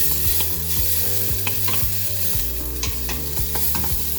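Minced garlic and finely minced tomato sautéing in hot oil for a Vietnamese sweet and sour shrimp soup, a steady loud sizzle with repeated stirring scrapes throughout, no talking.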